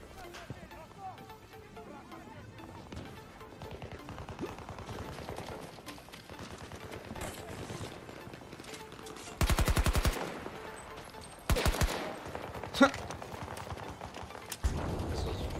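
Automatic gunfire in Battlefield 2042 Breakthrough on PS5, several rapid bursts growing louder and denser toward the end over a busy battlefield background, with a voice talking underneath.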